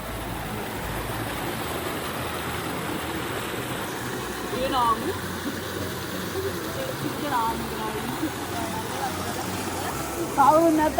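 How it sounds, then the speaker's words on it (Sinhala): Water flows steadily near the Namal Pokuna Raja Maha Viharaya temple in Dimbulagala, Sri Lanka, a continuous broad wash with a few brief bird-like chirps over it and no speech. "වතුර සද්ද එනවා."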